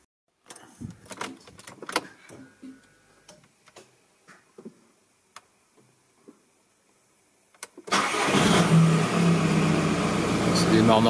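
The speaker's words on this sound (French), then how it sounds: "là j'ai démarré la voiture, voir ce que ça donne" A 2006 Audi A3 fires up after a series of faint clicks and ticks, then settles into a steady, loud idle for the last few seconds, with no talking.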